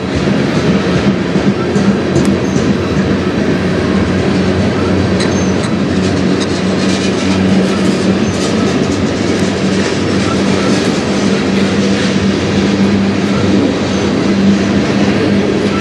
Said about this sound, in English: Pretty decent length train.